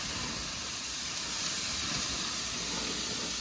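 Steak sizzles on a grill as a steady, even hiss with no pauses, moderately loud and with no voices over it.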